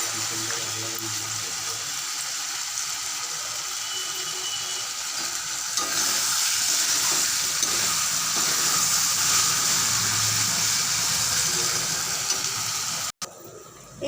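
Chicken chow mein being fried and stirred in a pan, a continuous close sizzle with scraping and stirring noises, loud throughout and briefly interrupted near the end.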